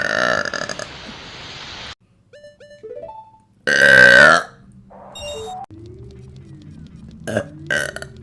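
A VTuber lets out a series of burps, several loud, close, croaking belches of varying length and pitch separated by short gaps and quieter moments.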